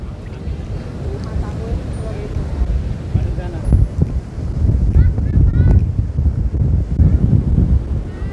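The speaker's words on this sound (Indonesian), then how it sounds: "Ini anginnya besar banget guys." Strong wind gusting at Pantai Baru beach in Bantul, Yogyakarta, a loud rushing roar battering the microphone throughout, swelling stronger in the second half, with voices faintly mixed in.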